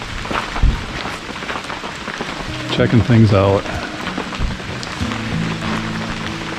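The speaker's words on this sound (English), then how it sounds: "So this is us camping in the rain," Rain drums steadily on a tiny camper during a camping trip in torrential rain, a dense close hiss throughout, with a person talking briefly in the middle.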